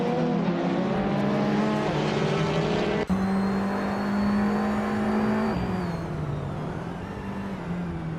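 Race cars in a racing video game at the Sydney Homebush Street Circuit, a 2018 Peugeot 308 among them, engines screaming and shifting up as the pack gets away, a loud sustained whine with a sharp gear change midway.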